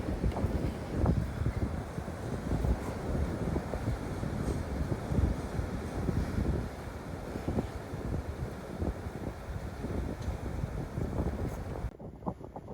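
Cold wind blowing hard in Reykjavik, Iceland, a continuous loud roaring buffet across the microphone for most of the clip before cutting out abruptly near the end, with no speech.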